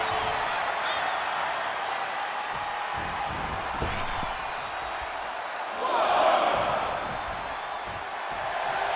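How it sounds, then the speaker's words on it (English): Crowd noise in the WWE 2K24 wrestling video game, a steady arena roar under game sounds that swells into a louder cheer partway through. "The sound of this crowd is deafening, and he's asking for more."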